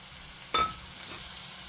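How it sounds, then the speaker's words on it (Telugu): Sesame oil cake powder (telaga pindi) tipped into a hot pan for a bottle gourd curry, a brief loud burst of sizzle followed by softer stirring and frying noise, no talking. "ఇప్పుడు నేను తెలకపిండి వేసేసుకుంటున్నాను"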